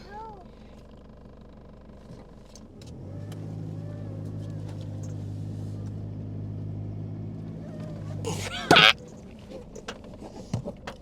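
A Toyota four-wheel drive runs off-road in high 4, its engine a steady low drone that swells after a few seconds and holds, with a sharp knock or splash near the end and people talking over it.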